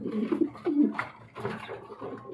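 Yellow King running pigeons cooing close by in a repeated series of low, throaty coos, with no voices present.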